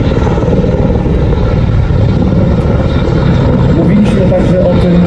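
Helicopter flying at an international air show in Radom, a steady loud rotor and engine drone filling the whole stretch, with voices faintly mixed in.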